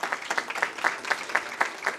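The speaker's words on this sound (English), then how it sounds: "Please clap for her." Audience applause at the launch of a stop-incest campaign in Kenya, a steady burst of many hands clapping for a woman asked to stand, moderately loud and continuous with no voices over it.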